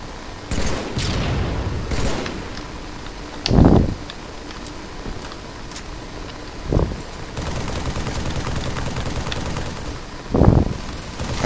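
Missile pod fire in Halo 3, heard as several loud, separate booming blasts spaced a few seconds apart over a constant rumbling game background.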